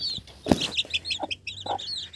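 High, thin chirping calls of ducklings come in quick repeated bursts, with a few soft lower clucks mixed in nearby.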